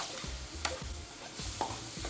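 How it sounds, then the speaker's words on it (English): Chicken and shrimp sizzle in olive oil and butter in a hot pan, a steady crackling hiss broken by scraping stirs from a utensil, close and with no voices. "This pan is sizzling hot."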